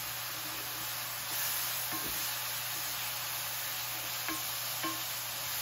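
Bananas cook in a pan for a bananas Foster pound cake, giving a soft, steady sizzle and hiss with a few faint stirring clinks, heard alone and fairly quiet.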